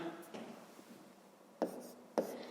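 A pen scratches out a math problem on paper, with faint soft strokes and a few sharper taps, close and quiet.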